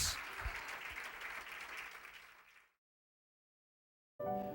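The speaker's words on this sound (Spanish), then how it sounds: "dale un aplauso de alabanza al Señor" A church congregation standing and applauding in praise, a crowd of dense clapping that fades out after nearly three seconds into silence before other sound abruptly resumes.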